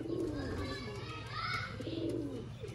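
Sialkoti pigeons cooing in a loft setup, soft rolling coos close by, with children's voices and chatter mixed in over a steady background hum.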